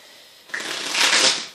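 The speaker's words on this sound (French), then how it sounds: "On va mélanger une dernière fois." A deck of playing cards is riffle-shuffled once during a magic trick, making a single close, crisp fluttering burst that lasts about a second.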